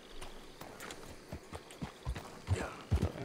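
Horse hooves in Red Dead Redemption 2 clip-clop at a stable, a run of uneven thuds that start faint and grow heavier and closer toward the end, with no voices over them.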